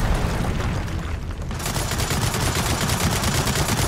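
Heavy, continuous gunfire from a big mounted gun in the video game Gears of War 4, a loud sustained roar of rapid shots that briefly thins out before pounding on again, no talking.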